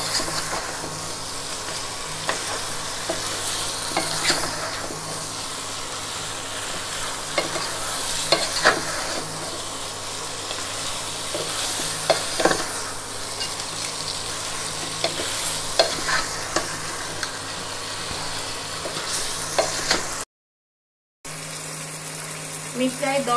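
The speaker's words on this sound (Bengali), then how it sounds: "এবার খুব ভালো করে মশলার সঙ্গে মাথাগুলো কষিয়ে নিতে হবে।" Fish heads fry with spices in oil for Bengali muri ghonto, a continuous loud sizzle with repeated scraping stirs and clinks of the spatula, briefly cut to silence near the end before the frying resumes.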